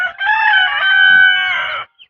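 A rooster crows once on a farm in the early morning, a loud, close, sustained call of under two seconds with no one talking.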